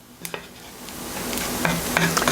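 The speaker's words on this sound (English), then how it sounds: "I'm going to sprinkle my flour over my onions, and I'm going to blend all of that together" Onions with flour sprinkled over them stirred in a cooking pan, giving a soft continuous sizzle with a few light scrapes and taps of the utensil, fairly quiet and close.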